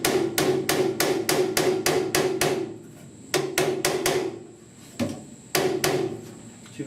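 Sheet metal is hammered into shape on a custom dash for a 1966 Ford F100, with quick bursts of sharp ringing metallic blows in rapid rhythmic runs, separated by short pauses.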